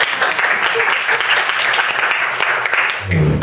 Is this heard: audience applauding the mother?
yes